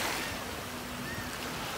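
Ocean surf washing ashore at Biloxi Beach, Mississippi, a steady, continuous wash of waves with a faint low hum beneath, moderately loud and unbroken, with no voices.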